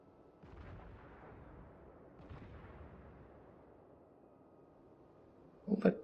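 Battleship naval gunfire in World of Warships, heard as two faint, distant booms whose rumbling tails fade out slowly. A sharper, louder burst of shots comes near the end.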